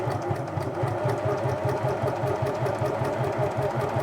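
A Singer Futura 2002 electronic sewing machine from the '80s stitching steadily at maximum stitch length, with a fast, even mechanical pulse that runs close and continuous throughout.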